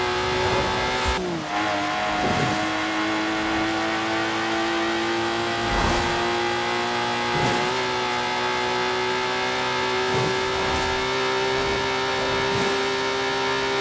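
A Lotus Exige sports car in Forza Horizon 4 drives with a loud, steady engine note that holds high revs throughout, broken by brief dips in pitch as it shifts gears.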